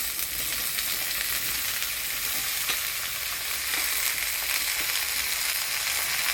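Chopped vegetables fry in a hot pan with black cumin, green chilli and onion, giving a steady, dense sizzle with faint stirring scrapes throughout and no voices.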